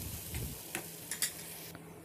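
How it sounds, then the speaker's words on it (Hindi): A spoon stirs onions, chopped tomatoes and green chillies in a pan for nargisi kofta, giving a few soft scrapes and light clicks over a faint, steady sizzle, with no talking. "चम्मच से इसको अच्छे से हिला लेंगे"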